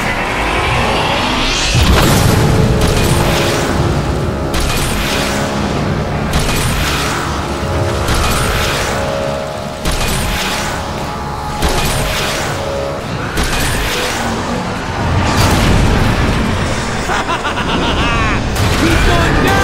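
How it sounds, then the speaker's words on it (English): Omega Supreme fires its big gun in Transformers: War for Cybertron, a run of loud, heavy booming blasts repeating every couple of seconds over mechanical game noise, with voices heard in places. "He's gonna fire the big gun!"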